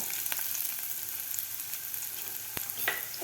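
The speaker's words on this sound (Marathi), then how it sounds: "तेल आपलं गरम झालेलं आहे तर यामध्ये घालायचं आपल्याला कापून घेतलेला कांदा" Chopped onion hissing and crackling in hot oil in a pan, a steady close sizzle with a few sharp pops and spatters, no voices.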